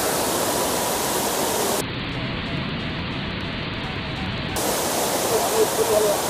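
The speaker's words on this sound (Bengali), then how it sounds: "কি অসাধারণ লাগছে এখান থেকে ওয়াটারফলসটা দেখতে" Steady roar of Jonha Falls near Ranchi, a broad, continuous hiss of falling water heard close and loud throughout, with a brief stretch where the upper range drops away before returning.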